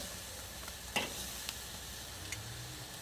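Steaks sizzle on a grill just after being flipped, a steady, fairly quiet hiss with a few soft pops and ticks and no talking.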